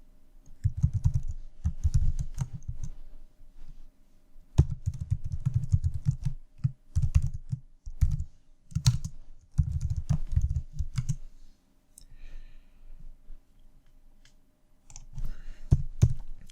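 Python code is typed on a computer keyboard in a Cinema 4D scripting session: close, crisp keystrokes arrive in rapid clusters separated by short pauses, with no voice over them.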